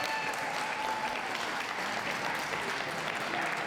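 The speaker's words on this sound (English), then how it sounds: "Can we have a round of applause for those leaving the ring, please?" An audience at a dog show ring applauds continuously, dense steady clapping filling the whole stretch at an even level with no talk.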